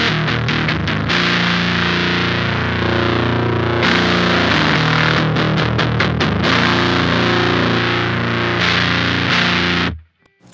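An electric guitar runs through a pedal with its bass-cut toggle set high, giving a thick, distorted tone with a trimmed low end as chords and quick strummed bursts play continuously for about ten seconds, then stop abruptly.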